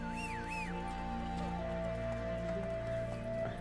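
Horse hooves clip-clopping in The Witcher 3, with a soft whinny, heard steadily under a sustained droning game music bed and a brief whistle-like tone near the start.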